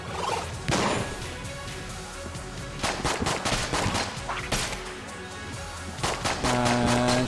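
Gunfire in the video game Enter the Gungeon comes as repeated bursts of shots and crashing impacts over busy game sound, with a tonal chime near the end.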